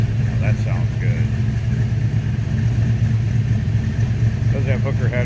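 A 1957 Chevrolet 3100 Stepside pickup with Hooker headers and Magnaflow exhaust runs at a steady, low, rumbling idle close by, while someone talks over it.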